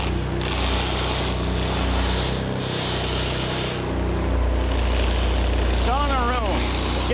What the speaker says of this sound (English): hear you over those motorcycles driving by